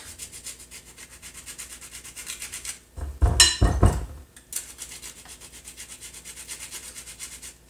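Citrus rind scraped over a grater in short, brisk rubbing bursts, close and fairly loud for about a second amid quieter background noise.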